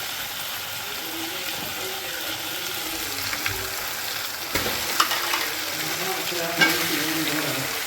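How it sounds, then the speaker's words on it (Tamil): Washed chicken pieces go into a pan of tomatoes that have been frying for a couple of minutes for a Diwali chicken gravy, with steady sizzling, stirring scrapes and a few sharper clinks against the pan. "இப்போ நம்ம வந்து கழுவி வச்சிருக்கிற சிக்கனை வந்து இப்போ அதில் ஆட் பண்ணிடலாம்"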